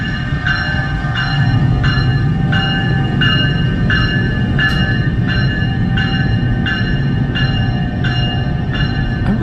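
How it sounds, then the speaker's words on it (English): An electric passenger train with its pantograph raised on catenary wires rolls past a station, a steady rumble with evenly spaced rhythmic clicks from the wheels, close and sustained throughout. "I wonder if this train was what just was in the station"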